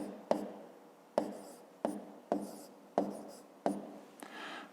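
Handwritten numbers going down on paper during a fifth-grade multiplication exercise: a handful of sharp pen taps, each followed by a short scratching stroke, close and fairly quiet with no talk.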